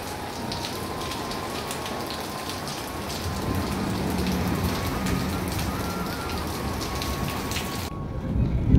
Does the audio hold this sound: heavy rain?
yes